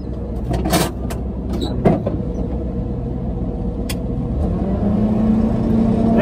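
Engine idling at about 1300 RPM to build hydraulic pump pressure on ranch equipment, a steady loud drone that holds throughout with a faint rising whine near the end and a few brief clanks.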